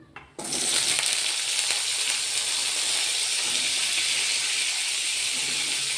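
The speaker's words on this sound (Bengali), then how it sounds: "এগুলো আমি আস্তে আস্তে ওর মধ্যে দিয়ে দেবো" Cauliflower, potato and peas hit hot mustard oil, bursting into a sudden loud, hissing sizzle after a quiet moment, then holding as a continuous bright frying hiss with light stirring sounds.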